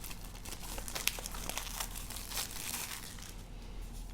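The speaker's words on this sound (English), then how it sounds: "now let's quickly peel the plastic" Crinkling, crackling plastic wrap being peeled off a Samsung Galaxy A14 phone box, close up in a quick burst of sharp rustles and small tearing sounds.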